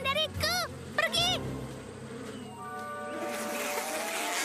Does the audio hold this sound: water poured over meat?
no